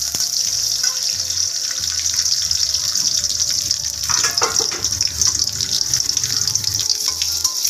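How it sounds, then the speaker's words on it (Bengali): Water poured into a cooking pan of onions, with bay leaves, cardamom and cinnamon, for a village-style hilsa and fig dish: a steady close gush and splash that runs for the whole stretch without talk. "পেঁয়াজটা যেন পড়ে না যায় সেই জন্য একটু পরিমাণ মতো পানি দিয়ে দিচ্ছি।"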